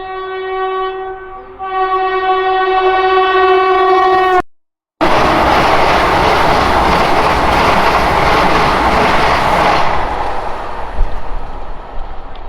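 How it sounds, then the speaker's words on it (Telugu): A long, loud horn sounds first, then after a brief cutout the Visakhapatnam–Bhubaneswar Vande Bharat train roars past up close with a steady, heavy rushing noise that eases toward the end. "మనకు ఎదురుగా విశాఖపట్నం భువనేశ్వర్ వందే భారత్ వస్తుంది"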